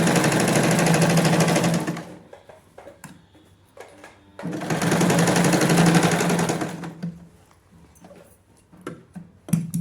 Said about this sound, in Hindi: अब पूरी हाफ इंच पे हम नीचे तक स्टिच लेके रहेंगे।